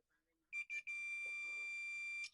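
Two short electronic beeps followed by a long sustained high-pitched tone from a multimeter continuity tester checking a Cloud 9 hair straightener's fuse, with faint background noise.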